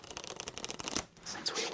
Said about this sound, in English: Just give it an extra thorough shuffle.